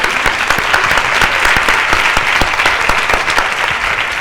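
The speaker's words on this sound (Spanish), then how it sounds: "Vamos a darle un aplauso." A dense crowd applauds at a cardiovascular prevention conference, loud and sustained clapping filling the room evenly throughout with no talking.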